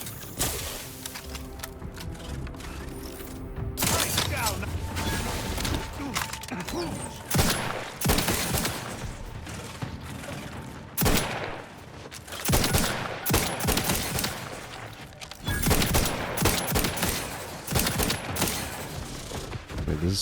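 Semi-automatic gunfire in The Outer Worlds 2, loud sharp shots fired in irregular bursts of single rounds over about twenty seconds, with quieter game ambience between volleys.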